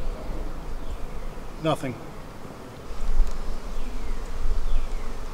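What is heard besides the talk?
honey bees buzzing while combining beehives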